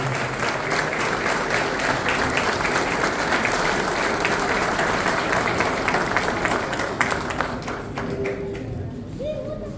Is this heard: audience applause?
yes